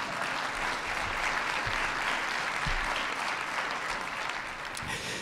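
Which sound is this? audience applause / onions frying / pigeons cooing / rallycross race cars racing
audience applause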